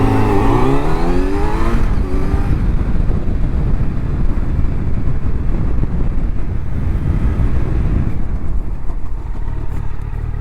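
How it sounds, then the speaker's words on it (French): A Yamaha MT-09 SP motorcycle revs up loud and near through the gears, a rising then falling engine note, followed by a long rough roar with heavy wind buffeting as it slows hard. "monter en gamme jusqu'au 3e rapport, 60 km/h, on freine à fond"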